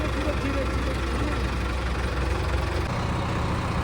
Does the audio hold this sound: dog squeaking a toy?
no